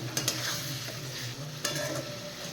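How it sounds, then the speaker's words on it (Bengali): Spice masala for crab curry fries in a pan, giving a soft continuous sizzle with intermittent stirring scrapes and a couple of brief clinks, fairly quiet and close with no speech. "আমি প্রথমে মশলাটা একটু কষিয়ে নেব তারপর কাঁকড়াগুলো দেবো"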